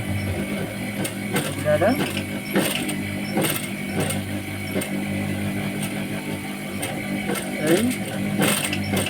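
A sewing machine stitches along a jeans zipper in bursts of rapid mechanical chatter and ratcheting, with a person talking over the work throughout.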